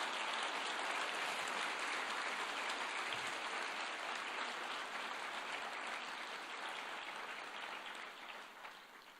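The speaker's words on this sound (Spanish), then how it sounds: "Aplaudimos al Señor, le bendecimos." A church congregation breaks into broad, hissing applause that sounds almost like rain, holding steady and then fading gently toward the end, with no voices heard above it.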